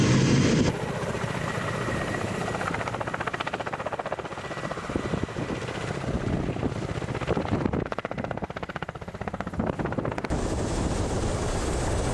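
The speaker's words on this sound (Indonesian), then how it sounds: "Ka-52 Alligator menjadi salah satu helikopter tempur yang paling dihormati dan ditakuti di dunia." A Russian Ka-52 Alligator attack helicopter drones loudly and steadily, its rotor noise filling the whole stretch with a dense, throbbing roar and no talk.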